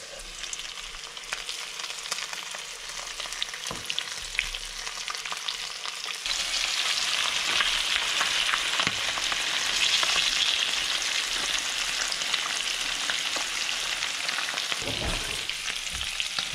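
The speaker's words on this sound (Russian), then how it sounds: "Итак, нам их надо обжарить с двух сторон до золотистой корочки." Crucian carp frying in hot sunflower oil in a pan, a loud continuous sizzle that grows fuller after a few seconds, with occasional stirring and crackle and no talking.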